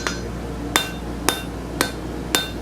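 Hammer blows forging metal on an anvil for a gothic door knocker, five sharp ringing strikes at a steady pace of roughly one every half second, close and loud, with no talking.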